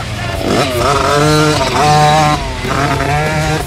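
A motorcycle revs and rides close by, its engine rising and falling in pitch through repeated throttle swells as it takes a turn, loud and continuous.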